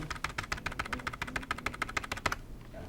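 Rapid keyboard key presses, a steady run of sharp clicks for over two seconds, close by, then stopping.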